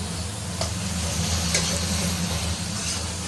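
Spice paste with ground cumin sizzling and frying in oil in a pan while being stirred, a steady moderate hiss with occasional scraping ticks, fairly close and unbroken, no speech.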